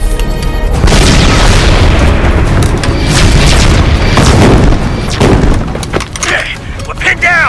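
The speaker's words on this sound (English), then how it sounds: "Now order our cannon to target their rear units. We'll box them in and blast them to pieces." Heavy cannon blasts boom through a chaotic Star Wars Clone Wars battle, loud overlapping explosions and gunfire rumbling densely and continuously with several sharper bursts over the span.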